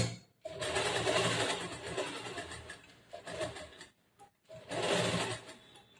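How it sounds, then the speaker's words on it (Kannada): A sewing machine stitches a plain blouse in a tailoring class, running in two loud close bursts with short pauses between them, and no one speaks. "ಸ್ವಲ್ಪ ಸ್ವಲ್ಪ ಜೋಡಿಸ್ಕೊಂಡು ನೀಟಾಗಿ ಸ್ಟಿಚ್ ಮಾಡ್ತಾ ಇದ್ದೇನೆ"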